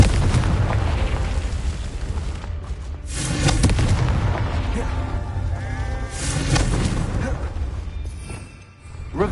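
Confringo fire spell blasting repeatedly in the Hogwarts Legacy video game, loud booming bursts with crackling tails that recur several times across the scene, mixed with game ambience and effects.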